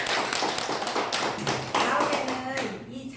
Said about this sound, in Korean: 모두 큰 박수 한번 주세요